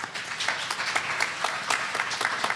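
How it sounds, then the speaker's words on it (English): Conference attendees give a panel a round of applause after a discussion on resident unionization, the claps sparse and moderately quiet, scattered across the room. "Can we have a round of applause for our panel?"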